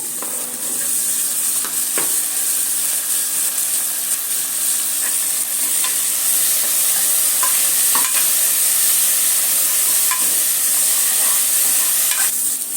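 Chopped tomato sizzles steadily in a pan after onions, with a constant frying hiss and occasional scrapes and taps of a spoon stirring, close and without talk.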